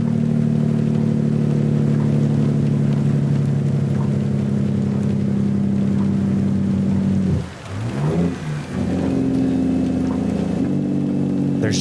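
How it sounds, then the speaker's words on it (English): Steady low drone of a Ruda 389 glider truck's engine in American Truck Simulator, its Jake brake rumbling loud and close, then briefly dropping away before the engine returns. "To me, in my ears, this is the best sounding Jake brake."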